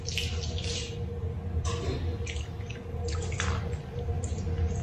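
Water poured over a diamond-hard coated surface, a continuous splashing and trickling with intermittent drips and bursts, close and fairly steady.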